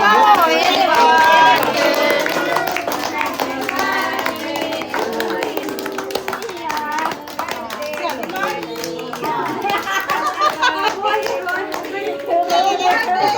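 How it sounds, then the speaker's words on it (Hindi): Children clap their hands together amid lively chatter and kid voices at a summer outing, the bright clapping running steadily under overlapping talk and background music. "अब ताली बजाओ"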